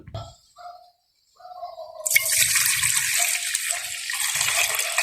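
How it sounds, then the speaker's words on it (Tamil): Coconut milk is poured into a cooking pot for a cough-relief porridge, a steady close gushing splash that starts after a couple of seconds of small clinks and runs to the end. "கொஞ்சம் அரைவாசி தேங்காய் பாலை இந்த பானைக்கு விடணும்"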